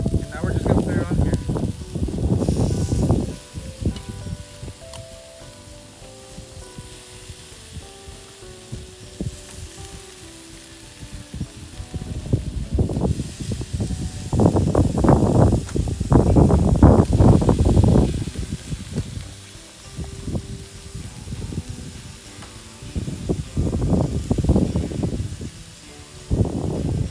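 Brine-marinated carne asada for street tacos hits a hot camp grill, loud close sizzling that swells and eases in bursts while someone talks over it.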